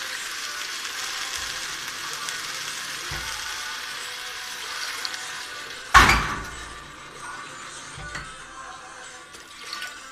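Water is poured from a glass into a pan of frying Greek soutzoukakia meatballs with fresh cherry tomatoes, giving a sudden loud splash and burst of sizzling, then a steady simmering hiss.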